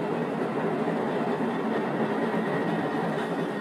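A train rumbles past steadily through a valley in Korea, with a continuous broad rolling roar of wheels on rail heard at moderate distance and no voices.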